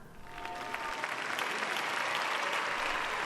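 An audience breaks into applause, a dense wash of clapping that swells over the first second and holds steady, fairly faint and distant, with no talking over it.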